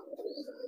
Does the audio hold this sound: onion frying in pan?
no